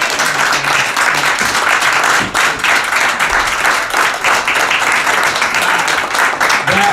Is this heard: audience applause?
yes